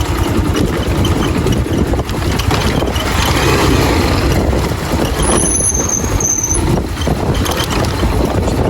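A motorbike engine runs continuously through a crowded, busy road with other traffic around, a steady loud rumble with occasional squeals and no clear speech.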